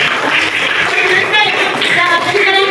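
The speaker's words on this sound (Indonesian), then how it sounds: "Tepuk tangan dulu teman-teman" Children in a classroom clap their hands together, a dense, steady patter of many small hands lasting a few seconds, fairly loud and close, with faint voices mixed in.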